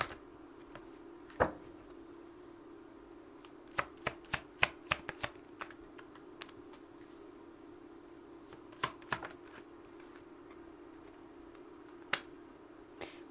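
Tarot cards are shuffled and drawn at close range, with scattered crisp snaps and flicks of card stock against a quiet steady hum, with no talking.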